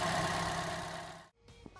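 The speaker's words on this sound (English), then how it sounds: "so as we can see there, tiny engine, but it's powering a tiny car that doesn't weigh anything" A Scion iQ's small four-cylinder engine hums steadily at idle, then cuts off abruptly, leaving a quiet space with a faint click.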